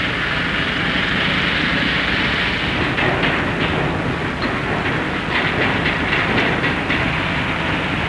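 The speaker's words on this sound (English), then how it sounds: "At every yard, in place of emptiness and silence, are ships being built to the cheerful sound of riveting." Shipbuilding at the Clyde shipyards fills the air with a continuous clattering din of riveting, dense and steady, with faint rapid metallic bursts running through the broad industrial noise.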